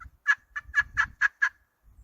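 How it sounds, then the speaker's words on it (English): An HS Strut Cookie Cutter turkey pot call sounds a quick series of about six raspy yelp notes in an even rhythm, close and clear, with no talking. "I may just do the 3-note yelp."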